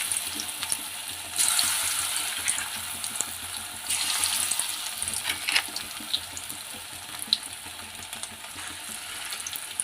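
Chicken pieces fry in hot oil in a pan, giving a steady soft crackle and hiss with brief louder bursts of spitting.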